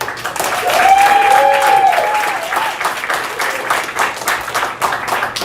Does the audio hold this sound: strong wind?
no